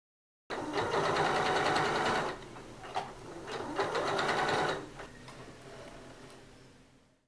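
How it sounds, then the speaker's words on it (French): A sewing machine stitches along the collar facing seam of a Harlequin dress, starting suddenly in a fast, steady whirring run. It slows and picks up again, then winds down and fades away. "Piquez maintenant le long du bord de la couture de manière à ce que la parmenture soit fixée"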